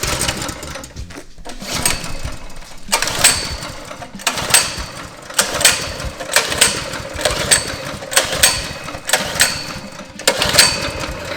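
Starter cord on an old engine from a GMC K20 truck, pulled again and again in quick rasping bursts with short pauses between them, loud and close, with no talking.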